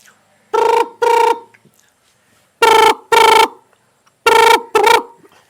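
A voice imitates a telephone bell ringing on a comedy stage, three pairs of short buzzing rings separated by pauses, loud and close with no other sound around them.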